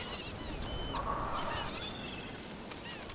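Birds calling on a beach in Dragon Age: The Veilguard, a scattered mix of honking, clucking fowl-like cries rising and falling over a steady ambient wash, with no talk.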